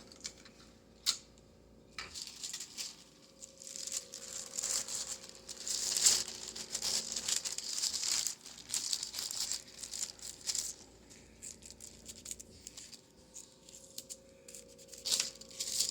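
Tape is pulled and torn off a roll and pressed down while carbon paper is set up for tracing a moth painting: quiet, close crinkling, ripping and tapping in irregular bursts.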